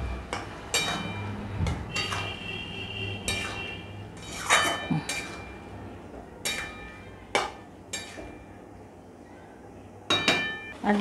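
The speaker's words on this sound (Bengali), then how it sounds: "একটু ভালো করে কষাবো।" Spiced potatoes for a vegetarian aloo dum being stirred in a pan with cumin, chili and coriander powder, a spoon scraping and clinking against the metal in irregular, fairly close knocks over a low background hum.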